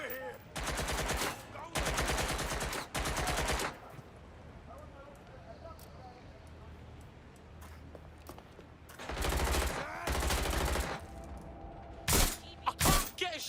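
Automatic gunfire in the game Watch Dogs Legion comes in loud repeated bursts of rapid shots, separated by quieter stretches of background game noise, with a few sharp single shots near the end.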